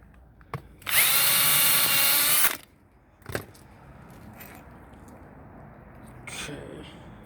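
A power drill drives a screw into a wooden planter box in one loud, close burst of whirring lasting under two seconds, followed by knocks and light handling noise.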